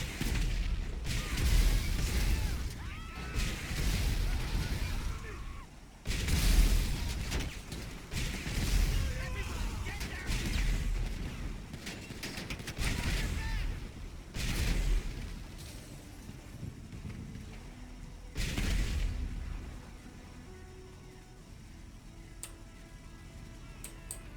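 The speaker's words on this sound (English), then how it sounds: "And here's the missile battery." Missile battery launching rockets in GTA Online, a series of loud bursts and whooshing blasts in irregular succession with rumbling booms, mixed with talk over the gameplay.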